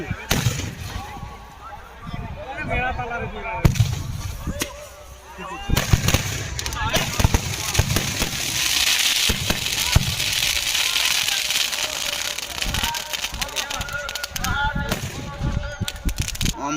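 Firework rockets exploding at a temple festival, sharp irregular bangs and crackles bursting over a noisy crowd, with people talking and shouting throughout.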